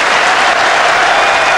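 A capacity cricket crowd at Old Trafford applauds loudly and steadily during a 1981 Ashes Test, a dense, continuous wash of clapping that fills the whole moment without any break.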